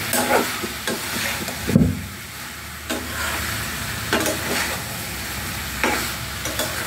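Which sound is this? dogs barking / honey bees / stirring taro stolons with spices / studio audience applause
stirring taro stolons with spices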